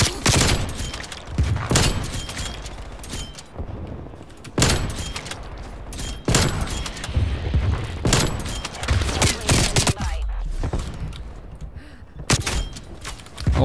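Gunfire from a Call of Duty Cold War match cracks out in loud, sharp shots at irregular intervals, with mechanical clicks and clatter between them and no speech.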